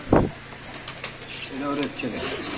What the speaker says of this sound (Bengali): কত সুন্দর কবুতর দেখেন মাসাল্লাহ